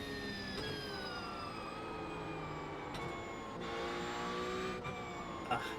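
A Porsche race car engine in the iRacing sim, holding a steady high whine that rises and drops through the gears with gentle pitch sweeps and brief shift breaks, at moderate level with no talking.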